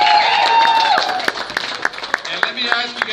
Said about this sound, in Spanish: Hay que darle un gran aplauso.